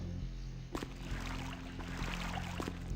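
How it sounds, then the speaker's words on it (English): Flowing water trickles and gurgles through a sewer ambience in Vampire: The Masquerade – Bloodlines, a Source engine video game, a continuous wet wash over a low droning hum, with small splashes and no speech. "That source engine sewer sound."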